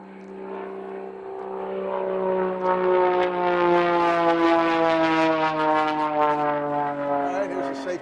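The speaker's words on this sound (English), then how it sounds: "that thing sound like it's turning higher RPMs than the others" Aerobatic propeller airplane at a national power unlimited competition, engine wound up to high RPM with the prop in fine pitch, droning steadily with a rising harmonic whine that swells louder and holds close overhead.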